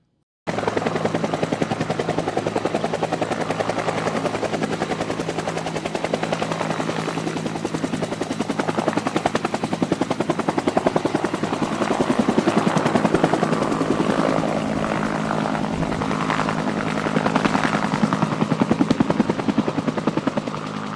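Loud, steady rotor chop and engine roar from a nearby Huey helicopter, continuous throughout with a rhythmic thumping beat.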